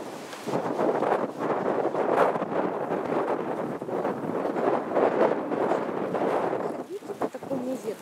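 Wind blows steadily into a microphone outdoors near a bridge, a rough, gusting roar that rises and falls over several seconds with brief dips near the end.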